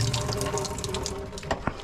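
Well water pours steadily from a tap into a sink, a continuous close splashing rush with a couple of brief clunks near the end.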